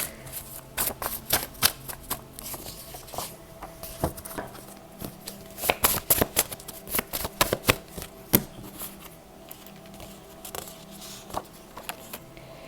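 Oracle cards are shuffled by hand in quick, irregular papery riffles and flicks, close and soft, with short pauses between bursts and no talking.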